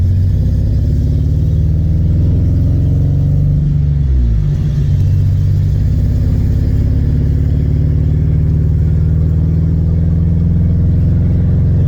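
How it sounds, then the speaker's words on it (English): A 2002 Pontiac Firebird's deep exhaust, with blown-through catalytic converters, drones continuously while driving, loud and steady, with a brief dip and shift in pitch as it changes gear. "because I thought you might like to hear the exhaust notes."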